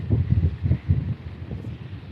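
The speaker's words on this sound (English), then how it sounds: "It's very pretty and extremely windy." Strong wind buffets the microphone beside a waterfall, a steady low roar with gusting surges throughout and no talking.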